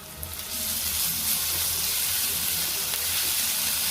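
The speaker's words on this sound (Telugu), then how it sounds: "హై మీద పెట్టి మంచిగా ఫ్రై చేసుకుంటే ఈ మసాలా ఉల్లిపాయ మంచిగా ఫ్రై అవుతాయి" Masala with onions sizzles hard in a pan over high heat, a loud continuous frying hiss close by with faint stirring underneath, building up after a brief start.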